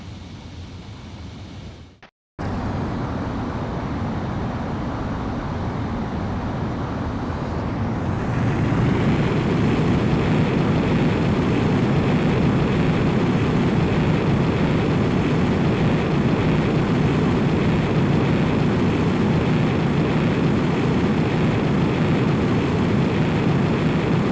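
A jet aircraft taking off in Ace Combat X, a steady broadband engine roar that surges louder after a brief cut and then holds as a constant rushing drone.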